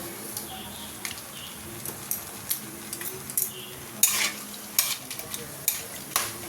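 Bay leaves, dried red chilli, cinnamon, cardamom and cloves frying in oil for mutton kosha, a steady close sizzle punctuated by repeated clinks and scrapes of a utensil against the pan.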